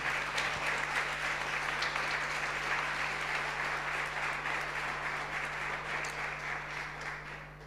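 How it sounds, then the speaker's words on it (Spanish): Church congregation clapping together during a service, a broad, even wash of applause heard at moderate distance over a steady electrical hum, slowly thinning toward the end. "Denle un aplauso a Jesús entonces."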